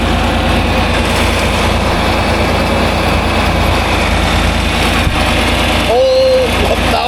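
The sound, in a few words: farm engine idling at about 1,000 RPM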